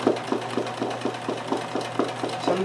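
A Kenmore 158.1914 sewing machine doing free motion embroidery runs in a steady, even stitching rhythm, with repeated mechanical thumps and a constant motor drone, close and alone without talk.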